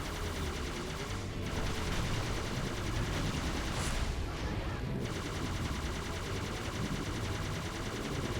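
Video game gunfire aimed at a turret in Halo 3 ODST's Uprising mission, rapid dense automatic shooting that continues at steady volume throughout, with no talking.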